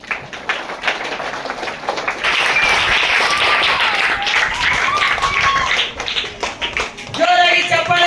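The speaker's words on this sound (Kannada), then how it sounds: "ಶ್ರೀಕಾಂತ್ ಅವರಿಗೆ ಜೋರಾದ ಚಪ್ಪಾಳೆ" A crowd applauds a student named Srikanth, winner of a Kannada quiz programme, with steady broadband clapping that runs for several seconds while voices carry on over it.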